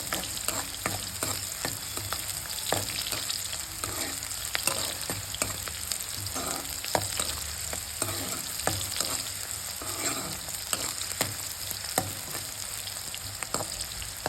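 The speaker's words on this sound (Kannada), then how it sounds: "ಈರುಳ್ಳಿ ಫ್ರೈ ಆಗ್ತಾಯಿದೆ." Onions fry in a pan for a chicken fry, giving a steady close sizzle with light clicks and scrapes of stirring scattered throughout, no talking.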